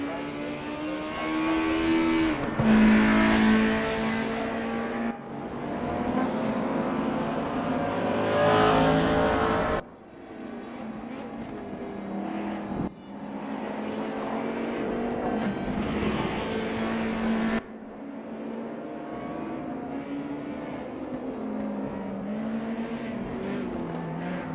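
Race cars in a sim racing game roar past one after another, engines loud and revving near the finish line, with abrupt cuts between passes and steady high engine whine throughout.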